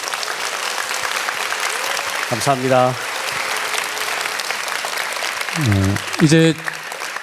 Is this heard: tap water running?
no